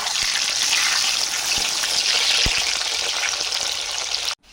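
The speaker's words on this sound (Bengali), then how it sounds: "এরপর উচ্ছেগুলো লাল লাল করে ভেজে নেব।" Pieces of bitter gourd fry in oil, a close, loud, steady crackling sizzle with a few sharp clicks of a utensil, ending abruptly.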